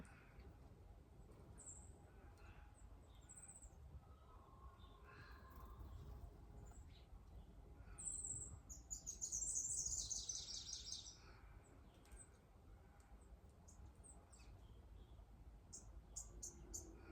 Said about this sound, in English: You can hear all the little birds tweeting in the background.